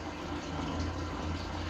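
Water pours into a gas tank being cleaned by electrolysis, a continuous close splashing rush that stays steady throughout.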